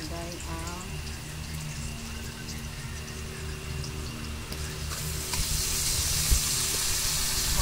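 Corned beef frying in oil in a home kitchen pan, a constant crackling sizzle that swells louder toward the end, heard close under a person talking and some background hum.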